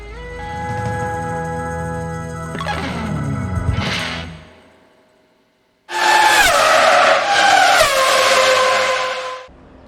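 A Lamborghini Gallardo Superleggera LP 570-4 supercar engine revs hard with a rising and falling harmonic howl, drops away to near silence, then bursts into a second loud, rasping rev up close.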